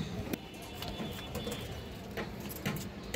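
A domestic pigeon offered for sale coos softly amid low background noise and scattered clicks and rustles, faint and somewhat distant, with no clear speech.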